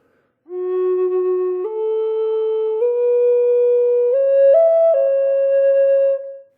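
Native American flute playing grace notes very slowly, a soft, pure tone stepping upward through several held pitches, with two leading notes before a long final target note, close and unaccompanied.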